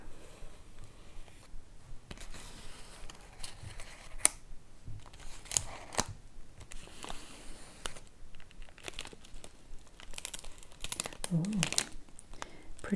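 Candy wrappers for peanut butter cups crinkle and rustle up close in scattered sharp bursts, with quiet stretches between them and louder crackling near the end.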